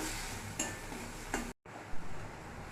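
Ground poppy-seed paste for a bata fish dish is stirred in a karai. A few faint, sparse clinks and scrapes of a utensil against the pan come through a quiet background.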